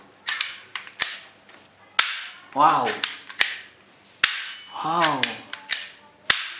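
A toy pistol fires a string of sharp, loud cap-gun cracks at irregular intervals, some stacked in quick pairs, while a voice exclaims in between.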